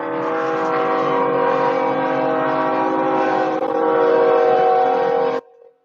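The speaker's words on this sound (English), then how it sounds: "Train." A train passes close by, its horn blaring in a loud sustained blast over rumbling rail noise for about five seconds before cutting off abruptly.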